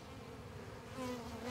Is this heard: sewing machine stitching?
no